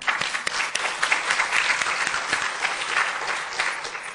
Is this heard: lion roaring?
no